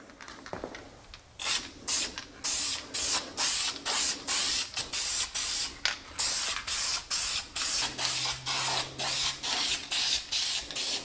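Duplicolor spray paint hisses onto vinyl seats in a long run of short, even bursts with brief gaps between them, close and steady throughout.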